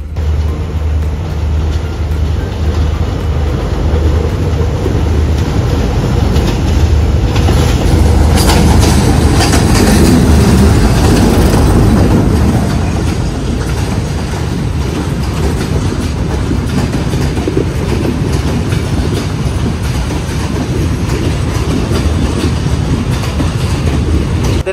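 An express train with AC coaches passes on a railway line in Sri Lanka, a loud, continuous rumble and clatter of wheels that swells to its heaviest in the middle and then eases to a steady roll.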